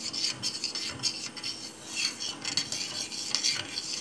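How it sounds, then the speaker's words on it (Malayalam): A spoon stirs a just-boiled milk mixture for homemade vanilla ice cream, repeated rhythmic scraping strokes against the pot, close and fairly loud with no talking. "ഇതൊന്ന് ഇളക്കി നന്നായിട്ട് യോജിപ്പിക്കാം"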